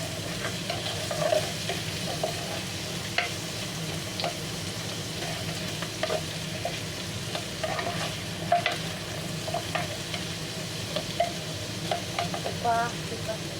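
Onions fry in a pan for sweet and sour chicken, a continuous close sizzle with frequent spatula scrapes and clicks in an uneven rhythm over about thirteen seconds, with no talking.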